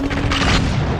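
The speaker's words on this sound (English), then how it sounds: "Look at all them 3D explosions." Explosions in the PlayStation game Contra: Legacy of War, a loud, dense burst of booming blasts rumbling together over a second, no talk heard over it.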